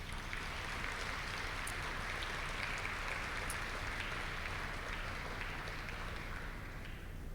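An audience at an awards gala applauds with a steady, soft, continuous patter of clapping that sounds distant and fades slightly toward the end.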